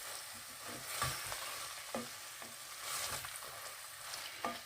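Cubed pork tenderloin, about 400 grams, sizzles and fries in a pan, with a low continuous sizzle and occasional clinks and stirring scrapes, fairly quiet and without talk.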